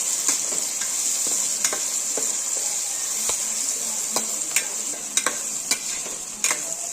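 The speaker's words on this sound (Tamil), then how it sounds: "இதையும் நல்லா வதக்கி எடுத்துருவோம்." Chopped tomatoes sauté in oil in a pan for Chettinad chicken gravy: a constant bright sizzle runs throughout, with sharp spatula taps and scrapes against the pan at irregular moments.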